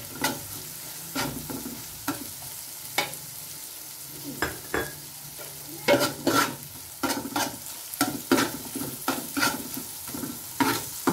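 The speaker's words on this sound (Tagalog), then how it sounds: "Isasangkot sa po natin yung ating tuyo. Yan. Sa ating luya, sibuyas, saka bawang. Gisa-gisa po natin siya dyan" Dried fish sautéed with ginger, onion and garlic in a pan: a soft steady sizzle punctuated by repeated scraping stirs, near and moderately loud, with no talking.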